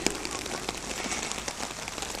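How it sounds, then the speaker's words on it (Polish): Rain falls steadily on an outdoor surface with a dense, even patter of drops and occasional louder splats, close and continuous throughout, with no voices. "Troszkę pada dzisiaj. Cały dzień prawie pada."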